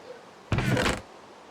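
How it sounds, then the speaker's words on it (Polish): A door bursting open as it is broken down in a video game, one loud, sudden thud-and-crash about half a second long that rises sharply out of quiet and cuts off. "Drzwi mi wywalili."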